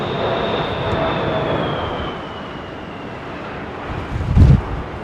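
A Boeing 747 pure freighter landing in a crosswind at London Heathrow, a broad steady jet roar with wind buffeting the microphone and a thump of gusting noise near the end.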